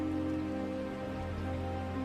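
Heavy rain pours steadily in an animated Hindi cartoon, a dense, even hiss of falling water with a low rumble underneath, continuous and without any speech.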